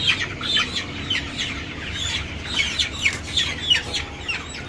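A chicken being beak-trimmed gives repeated high, sharp clucks and chirps in quick bursts, close and fairly loud, over a low steady hum.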